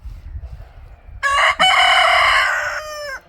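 A hen on an animal sanctuary, kept among roosters and other chickens, crows loudly and close by in a long drawn-out call broken by a brief catch midway, tailing off at the end over a quiet farmyard background.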